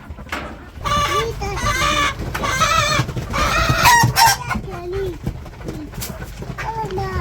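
Chickens on a village poultry farm cluck and squawk close by, a busy, overlapping chatter of birds with people talking among them.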